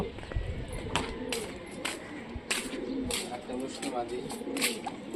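Rajshahi Giribaz tumbler pigeons coo softly and repeatedly nearby while someone talks over them and sharp clicks and rustles punctuate the scene.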